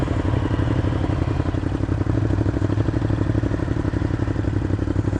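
A motorcycle engine runs steadily throughout a test ride, loud and close, with a rough, pulsing mechanical rumble and no talking over it.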